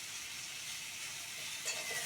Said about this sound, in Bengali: এই রেসিপির জন্য কাঁচা টমেটোটাকে ভালো করে ভেজে নিতে হবে।